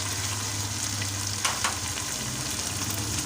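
Tomatoes and green chilies fry in a pan with garlic and ginger, a loud, continuous sizzle with brief stirring scrapes partway through and no voices.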